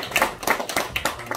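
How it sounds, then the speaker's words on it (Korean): A church congregation applauds newly ordained elders and deaconesses, with steady, moderately close clapping throughout a short stretch. "오늘 장립 받으시는 우리 장로님과 권사님에게 격려의 박수 드리겠습니다"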